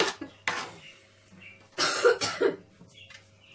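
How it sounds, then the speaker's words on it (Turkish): Close, dry coughing from a person, a few short separate bursts followed by a cluster of harsher coughs, with quiet gaps between them and some low indoor background. "bu öksürük geçmedi bitmedi"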